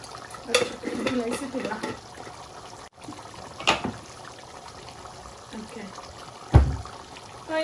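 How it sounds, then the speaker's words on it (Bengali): Lamb curry stirred in a pan, a spoon scraping and clinking against the metal in a few scattered strokes, with a sharp knock near the end, faint wet sizzling and voices talking. "এখন আমি ভালো করে লাড়াচাড়া করিলাই।"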